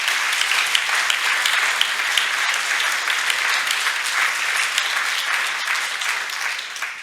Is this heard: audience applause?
yes